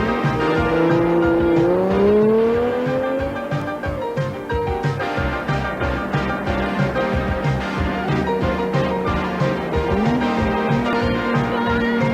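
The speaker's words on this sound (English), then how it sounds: "She's driving a Ferrari, but you get the idea." A Ferrari driving, its engine droning loud and close with rising and falling revs, a drawn-out whine shifting pitch and rumbling underneath for the whole stretch.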